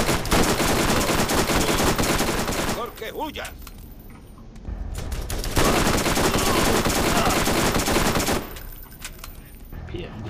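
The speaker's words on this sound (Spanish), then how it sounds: "Bien, disparo a la cabeza." Rapid bursts of automatic gunfire in the shooter game Borderlands, loud and dense, broken by a couple of short pauses, with a player speaking briefly in between.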